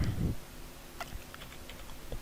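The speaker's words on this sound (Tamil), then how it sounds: "இப்போ நானும் ஒரு ஃபேக்கான ஒரு நம்பர் வந்து நான் என்ட்ரு பண்ணுறேன்." Computer keyboard typing as a phone number is entered, a few sparse key taps after a brief louder thump at the start, close and fairly quiet.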